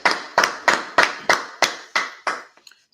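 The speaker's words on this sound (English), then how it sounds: "Clap it up, clap it up, clap it up." Hands clap in a steady series of eight sharp, evenly spaced claps, fairly loud, with a couple of faint trailing taps at the end.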